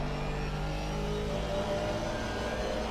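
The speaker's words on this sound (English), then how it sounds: "The Aston sounds good on board." An Aston Martin race car engine drones from the onboard view in a sim racing game, a loud, steady mid-pitched roar that holds nearly constant throughout.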